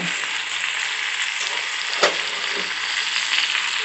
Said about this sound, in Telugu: కొద్దిసేపు ఇలానే ఆయిల్లో మగ్గిద్దామండి.